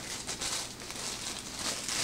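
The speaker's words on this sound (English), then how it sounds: "Getting everything out of these little plastic bags here." Steady, close crinkling of small plastic bags being handled, with soft rustling that swells and eases over a couple of seconds.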